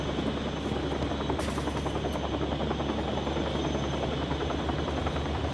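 A steady, loud video game helicopter rotor drone with a continuous buzzing thrum throughout, no talking.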